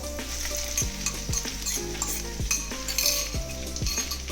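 Chicken fries in a pan for Odia-style pineapple fried rice, giving a loud, steady sizzle. A utensil scrapes and clinks against the pan in a repeating stirring rhythm, with no one talking.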